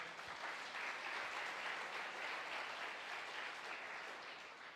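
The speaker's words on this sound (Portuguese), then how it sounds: "Você pode aplaudir mais uma vez o Senhor?" An audience applauds together during a church service, a steady, dense wash of many hands clapping that holds evenly throughout, heard at a fairly low level from some distance.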